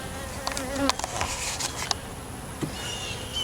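Honeybees buzz steadily at an open beehive during a hive inspection, a dense close-up drone with brief swells and a few sharper wingbeat passes, with no voices.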